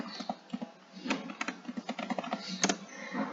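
Computer keyboard typing with irregular quick clusters of clicks and taps, close and clear, no voices.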